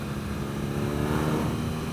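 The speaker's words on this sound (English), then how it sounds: "the exhaust is just popping and burbling" BMW R NineT motorcycle with an Akrapovic exhaust, held in third gear around 4,000–5,000 RPM, giving a steady, loud engine drone with a rough, burbling texture throughout.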